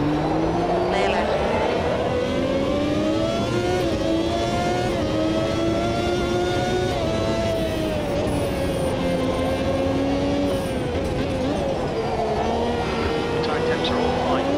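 A 1993 Formula One race car engine in Automobilista 2, screaming at high revs through a lap with rising and falling pitch through gear changes, loud and close, with speech over it.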